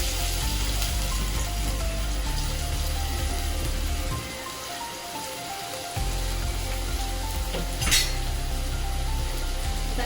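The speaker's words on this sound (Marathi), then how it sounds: "आता आपण हे तेल चांगलं तापलेलं आहे, त्याच्यामध्ये कांदा घालून घेऊया." Chopped onion dropped into well-heated oil sizzles and fries steadily at close range, a continuous crackling hiss with a brief dip in the low hum partway through and a faint clink near the end.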